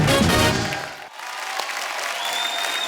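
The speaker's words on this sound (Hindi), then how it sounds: "एक बार हमारे सब प्लेयर्स के लिए जोरदार तालियां।" Studio audience at a comedy talk show with a 1983 Cricket World Cup team reunion breaks into loud applause, dense clapping that dips briefly then continues steadily.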